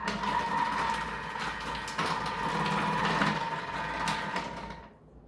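Thermomix cutter grating zucchini on the thick setting, a steady close motor whir with a grinding, rasping texture holding for about five seconds before winding down, no talk.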